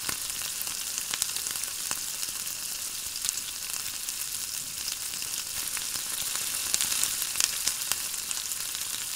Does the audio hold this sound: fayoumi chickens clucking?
no